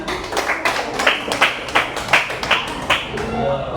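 Children in a classroom clap in unison, a string of sharp, evenly spaced claps in a steady rhythm heard close, with a voice leading them at the start.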